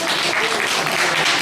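Steady, loud applause from an audience at a welcome ceremony for new baccalaureate graduates, dense clapping filling the short stretch without a break.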